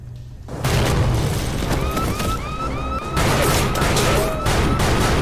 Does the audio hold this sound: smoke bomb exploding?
yes